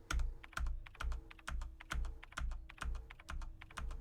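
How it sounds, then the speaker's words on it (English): Steady bursts of clacky typing on a mechanical computer keyboard, struck hard and loud at close range, with regular rhythmic clusters of key hits repeating about twice a second. "I have a mechanical keyboard because I like the clacks."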